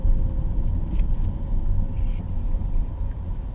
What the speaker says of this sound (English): And we got some traffic coming.